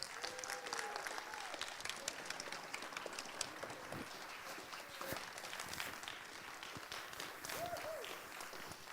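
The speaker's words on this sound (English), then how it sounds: "Give everybody a big round of applause for what we did." An auction audience applauds for several seconds, a dense, steady clapping with scattered voices and faint murmuring under it.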